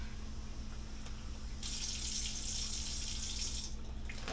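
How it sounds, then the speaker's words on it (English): Water runs from a tap in a steady gush, filling a soup pot for chicken chipotle soup, the flow growing brighter and louder for about two seconds, then easing off over a constant low hum. "Now we're going to put another cup of water in there."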